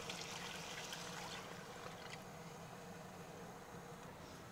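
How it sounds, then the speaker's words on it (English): Beef broth being poured into a pot during beef stew preparation, a steady soft liquid trickle and stream running continuously, fairly faint and close with no talking. "Going to add in 3 cups of beef broth."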